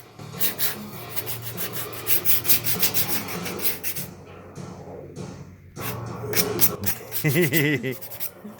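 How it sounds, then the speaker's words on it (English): Repeated rhythmic rubbing strokes of sanding on a surface, close and fairly loud, pausing briefly midway before resuming. "look at this sexy sanding"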